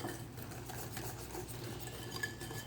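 Whisking flour and sugar together in a bowl for a chocolate cobbler, a soft, steady scraping and rhythmic ticking of a whisk against the bowl, close and quiet with no talking.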